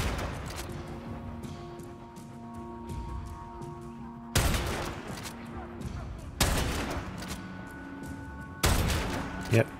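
Gunfire in Warframe: three loud, sharp shots spaced a couple of seconds apart, each with a ringing tail, over a low ambient game hum.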